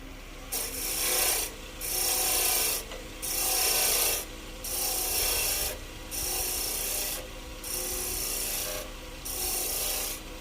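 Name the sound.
spindle roughing gouge turning wood on a lathe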